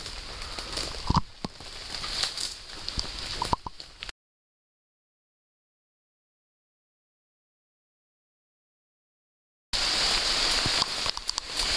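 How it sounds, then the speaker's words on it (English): Rain patters steadily on a surface with scattered drips and plops, cutting out into silence for several seconds before resuming more heavily. "Rain is the best thing that could happen to us today."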